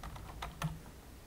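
Soft, faint keystrokes on a computer keyboard, a handful of quiet clicks in quick succession at low level.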